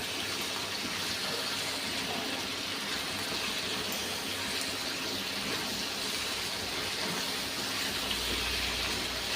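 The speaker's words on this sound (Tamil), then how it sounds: "இப்போ நம்ம தண்ணி ஊற்றிக்கலாம்" Water pours steadily into a pot for cooking rice for a mushroom biryani, a continuous close gushing stream with no voices.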